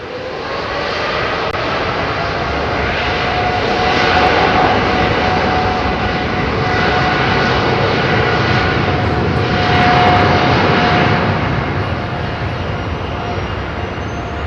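A loud, steady roar of Boeing 777 jet engines at London Heathrow Airport, with a high whine running through it, sustained and close, swelling slightly then easing, no voices.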